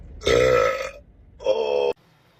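Two loud, close burps in a row, the first long and resonant, the second shorter and cut off abruptly, with no other sound around them.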